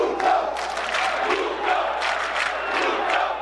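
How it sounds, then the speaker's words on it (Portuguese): A large football crowd at a Guarani versus Goiás match applauds and cheers a departing player, a loud, continuous roar of clapping and voices from the stands that swells in waves. "A torcida aplaudindo numa boa, a pessoa saindo aí"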